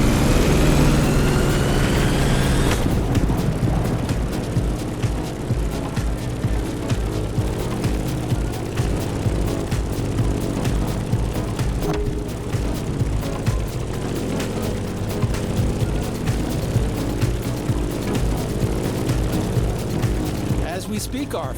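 A Grumman F8F Bearcat piston-engine fighter in The Crew Motorfest racing game roars steadily and loudly throughout, a dense engine drone with a thud near the start, under game music.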